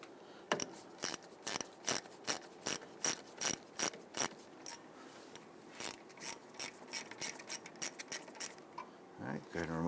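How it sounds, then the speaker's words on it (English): A ratchet removes a wheel cylinder bolt on a 2000-2006 Toyota Tundra, giving a close, rhythmic run of sharp clicking strokes that turn quicker and lighter toward the end. "go ahead and remove that bolt"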